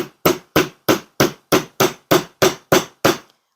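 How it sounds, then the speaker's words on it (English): A nylon mallet hammers an oval jump ring on a steel mandrel: eleven evenly spaced, sharp close knocks in a steady rhythm, clear and alone. "bring in the nylon mallet, and I'm going to hammer down on the long side of the oval"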